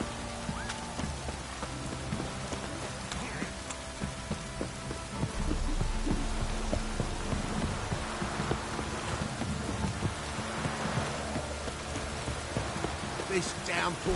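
A heavy downpour in the video game Witcher 3, a dense continuous hiss of rain on surfaces that swells louder midway, with horse hooves clopping and people talking beneath it.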